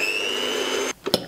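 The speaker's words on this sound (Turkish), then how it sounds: "mikserle kar kıvamına gelene kadar çırpıyoruz." Electric hand mixer whisking egg whites with a pinch of salt and sugar, a steady high motor whir held close before it cuts off, followed by a couple of brief knocks.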